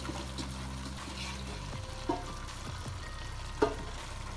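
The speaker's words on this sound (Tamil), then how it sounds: "கறியை போட்டு கொஞ்சம் நல்லா வதக்கணும்" Turkey meat being sautéed with softened tomatoes in a pan for biryani, a quiet, steady sizzle broken by a couple of sharp stirring knocks against the pan.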